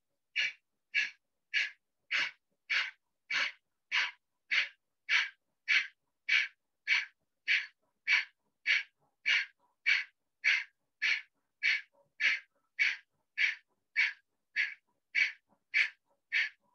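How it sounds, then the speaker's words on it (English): Kapalbhati yoga breathing: about thirty sharp, forceful exhalations through the nose, each one a short breathy burst, repeated in a steady, even rhythm, close and clear with no talking. "Look up and do Kapalbhati."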